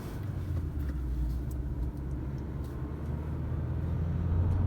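A Fiat Egea Urban Plus pulls away in first gear around 3000 rpm, its engine giving a steady low rumble heard from inside the cabin, constant and fairly loud, with no talking.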